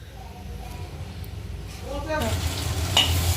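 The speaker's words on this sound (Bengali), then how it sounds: "দেখতে পাচ্ছ বন্ধুরা মশলাটা ভালো করে কষানো হয়ে গেছে" Spice masala fries and sizzles in a pan while being stirred, a steady close hiss that grows louder partway through, with a voice speaking over it.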